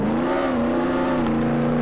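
Lamborghini fitted with a level 5 engine, max suspension and max brakes, accelerating in Roblox Jailbreak: a steady, loud engine drone holding a near-constant pitch with a slight rise, continuous throughout with no talk.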